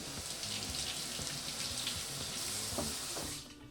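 Leek rinsed under running tap water in a kitchen sink, a steady faint hiss of flowing water with small splashes, continuous and fairly quiet.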